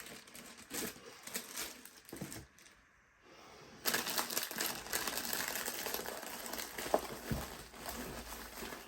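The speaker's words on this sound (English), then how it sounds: "So let's put all this back in the old bag." Diamond art kit items are packed back into a bag, making steady close crinkling and rustling of plastic and paper with a brief lull partway through.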